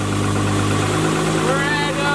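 A Spartan Warrior hydro jetter's engine runs steadily with a throbbing hum, its pitch climbing slightly as the revs rise near the end, with a voice talking over it.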